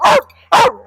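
German Wirehaired Pointers at a shelter: two loud, sharp barks close by, evenly spaced about half a second apart, with brief quiet between them.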